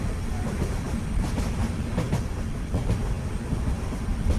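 A cartoon train rolls along with a continuous rumbling clatter and rhythmic clickety-clack of wheels, loud and close with no voices.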